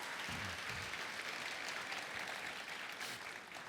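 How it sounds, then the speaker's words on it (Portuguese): Church congregation applauding during a sermon, a steady, dense wash of clapping throughout, moderately distant and even in level, with no talk over it. "Você pode aplaudir a Jesus por essa verdade?"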